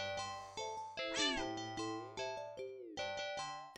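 A cat in a video game, being set in a sink before the water is turned on, gives several short, bright meows over a chiming, tinkling game tune, clear and close.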